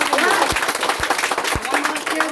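Crowd at an open public rally in Thariya breaks into loud, dense applause, a continuous roar of clapping with a few sharp thumps and voices mixed in.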